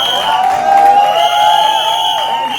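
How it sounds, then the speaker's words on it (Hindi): A crowd at a Hindi film teaser launch event cheers and whoops over clapping, with shouting voices and ringing musical tones layered on top, loud and close. "अभिमन्यु सिंह साहब के लिए जोरदार तालियां हो जाएं"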